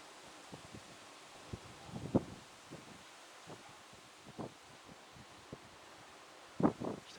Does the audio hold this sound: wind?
yes